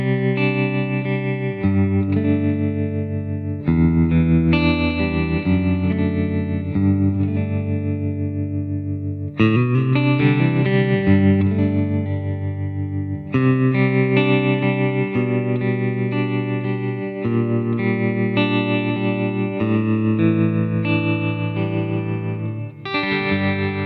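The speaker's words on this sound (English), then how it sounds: "what I'd like to do here is to put some tremolo on, like you'd have on, say, like a Fender Twin" Electric guitar played through a small amplifier with tremolo on, Fender Twin style, ringing sustained chords that pulse in steady waves, loud and alone with no talking.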